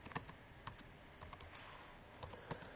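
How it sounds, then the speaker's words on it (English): Quick keystrokes on a computer keyboard as a sequence of numbers is entered, a soft, close run of irregular clicks over a faint background hiss. "And I type in a sequence of numbers."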